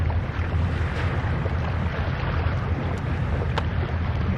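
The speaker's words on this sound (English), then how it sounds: "You can probably hear the waves in the background." Ocean waves wash in a steady, broadband rush from nearby, mixed with wind buffeting the microphone. The noise stays continuous and fairly loud, with no speech over it.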